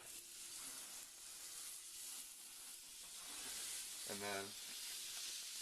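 Burger patties with diced onions sizzle in a frying pan for steamy slider-style burgers. The hiss is soft and steady and runs throughout, and a voice speaks briefly over it.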